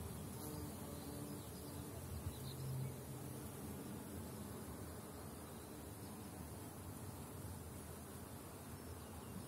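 Swarm of honeybees flying around hives in early April as willow trees bloom, a steady dense buzzing hum that fills the whole stretch without pause, with no voices.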